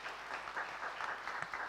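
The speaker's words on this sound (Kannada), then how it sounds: "ಚಪ್ಪಾಳೆ ತಟ್ಟಿ ಕರ್ತನನ್ನ ಘನಪಡಿಸ್ರಿ." A church congregation clapping together in applause, a dense, even wash of hand claps from many people that fills the whole moment without pause.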